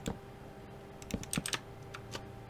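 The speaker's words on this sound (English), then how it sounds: "I am absolutely horrible at typing" Light clicks and taps from a computer keyboard come in short irregular bursts, close and fairly quiet, over a faint steady hum with no talking.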